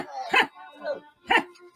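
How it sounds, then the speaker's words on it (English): A dog barks twice in sharp, close, loud bursts about a second apart, with a softer whine-like sound between them. "Who's that dog? It's my dog."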